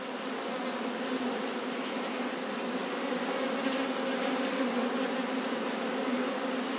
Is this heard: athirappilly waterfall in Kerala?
no